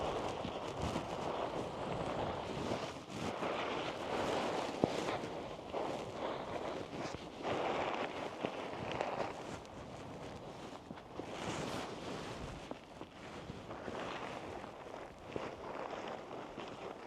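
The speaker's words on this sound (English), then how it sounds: "Some of this wind's coming." Wind gusting outdoors on a cycling trip near Lakselv in Arctic Norway, a steady broadband rush buffeting the microphone with shifting gusts, no speech over it.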